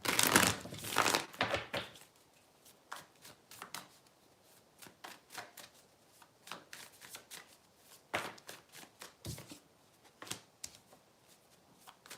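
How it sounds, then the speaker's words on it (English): Tarot cards are shuffled close up: a loud riffle at first, then a long run of quick, uneven snaps and slides of the deck, with no voices. "I'm gonna keep shuffling."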